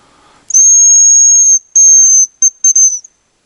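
A male hazel grouse's thin, piercing whistle: one long sustained note, a second shorter one, then a few quick clipped notes trailing off, with nothing else around it in the taiga.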